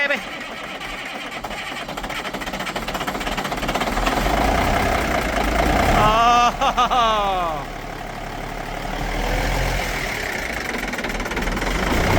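Peterbilt 359 truck running at idle after an engine swap, a steady loud diesel clatter that continues throughout, with brief voices speaking and cheering over it partway through.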